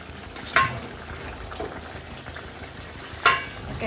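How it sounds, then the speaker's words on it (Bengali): Egg curry broth bubbling in a pan, a soft, steady simmering hiss with two brief metallic clinks of a utensil against the pan. "ঝোলটা ফুটে উঠেছে"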